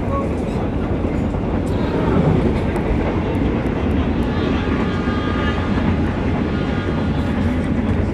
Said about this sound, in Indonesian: Itu tadi kereta api Argo Sindoro melintas.